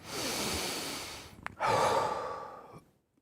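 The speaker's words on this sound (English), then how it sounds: "join me for just a really deep breath" A slow, deep breath during a guided meditation, a long airy inhale, then a brief pause and a fuller audible exhale that fades into silence, close and alone.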